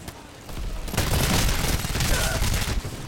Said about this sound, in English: I love those hit markers, or hit marker sounds, I guess is what it would be called